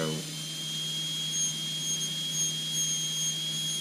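A high-speed rotary ball burr texturing metal gives a thin, steady high whine with a low motor hum beneath, continuous and close.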